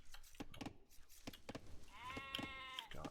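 A sheep bleats in Age of Empires 2, a wavering call amid scattered sharp clicks and other game sounds.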